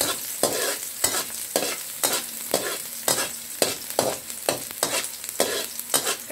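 Onions sautéing in a pan, cooked before the garlic; brisk, rhythmic spatula strokes scrape and clatter about twice a second over a steady close sizzle, with no voices.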